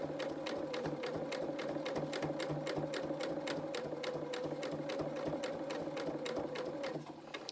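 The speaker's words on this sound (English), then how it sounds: "we want to be sewing through the seam allowance of the ruffle" A sewing machine stitches through the thick seam allowance of a ruffle on children's shorts or dungarees, a steady rapid needle chatter running loud and unbroken over a low motor hum, easing slightly at the end.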